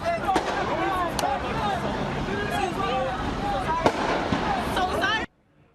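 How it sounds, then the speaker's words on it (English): Repeated loud blasts and crackling bangs ring out amid crowd noise and shouting at a street protest near Philadelphia's City Hall, the booms scattered across the clip before cutting off abruptly. "You could hear there the sound of loud explosions."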